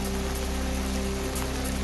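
Heavy monsoon rain pours down in Soygaon taluka, Chhatrapati Sambhajinagar, as a steady, dense wash of drops hissing evenly on surfaces, close and continuous throughout.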